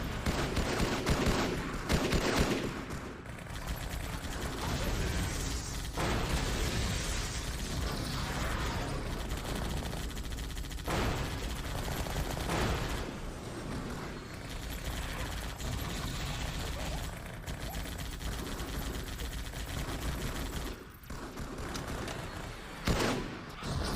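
Dense, continuous Halo 2 combat noise of gunfire and artillery explosions, with repeated heavy blasts and shots layered over a loud battlefield din, held at near-constant level throughout.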